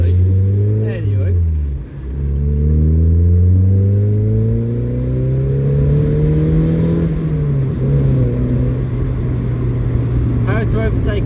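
A Mazda MX-5 engine revs while driving, its loud, droning note rising and falling in pitch through the gears, close and steady throughout.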